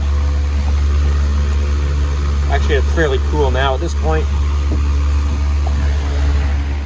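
A standby generator engine runs steadily indoors during a weekly test under a large heating load, a loud constant low drone with mechanical hum, while someone talks over it.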